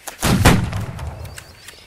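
Musket volley from line infantry in the Holdfast video game, a sharp loud broadband blast near the start with a booming low thud, then a rolling decaying rumble of scattered shots trailing off.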